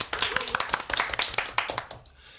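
A short burst of studio clapping on a Korean talk show, a handful of people clapping in quick uneven rhythm at close range, with voices murmuring underneath before it trails off.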